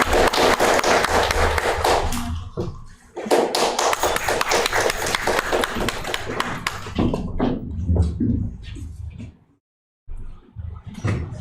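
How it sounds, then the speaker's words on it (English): Dense, continuous applause from a crowd of students, loud and sustained, with a brief lull and a short burst of clapping near the end. "A big round of applause, dear students."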